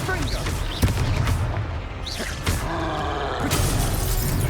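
Confringo explosion spell being cast in Hogwarts Legacy, with several loud bursting blasts spaced a second or so apart over a dense, continuous bed of game noise.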